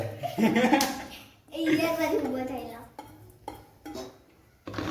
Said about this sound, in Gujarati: હવે આપણે હલાઈ દઈએ એટલે નીચે ચોટે ના